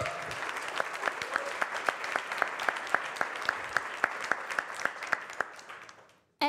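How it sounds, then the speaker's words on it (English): A crowd at a startup demo day applauds growth hackers and developers, starting as a dense roar of clapping that settles into rhythmic, evenly spaced claps before tapering off and stopping abruptly. "So big round of applause for them."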